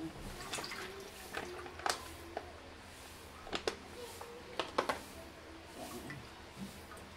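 Canned nata de coco being drained for a buko lychee dessert, giving scattered soft drips, squishes and liquid splashes that come close and fairly quiet, with no talk over them.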